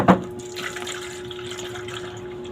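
Water pours from a tap into a container in a boarding house, a steady close splashing stream with a faint hum under it and no talking.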